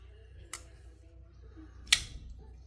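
XTOUC GK22D liner-lock folding knife with a flipper tab flipped open and shut, two sharp, snappy metallic clicks about a second and a half apart in a quiet room.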